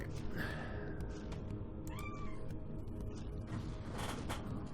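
A kitten meows faintly a few times over a steady mechanical hum, short rising and falling cries spaced out with soft clicks and creaks between them.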